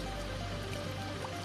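Water leaking from a broken drinking-water pipe in a residential subdivision makes a steady, continuous gushing and trickling wash, close and unbroken, with no voices.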